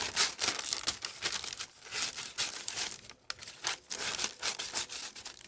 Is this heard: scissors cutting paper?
yes